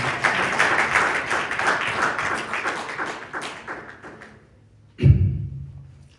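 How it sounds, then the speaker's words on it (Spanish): Church congregation applauds as an offering of praise during a Bible study on 2 Corinthians 5:17; steady clapping fades out over about four seconds, followed by a brief loud thump. "Regale una ofrenda de palmas al Señor"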